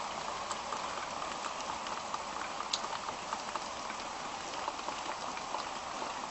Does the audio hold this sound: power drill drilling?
no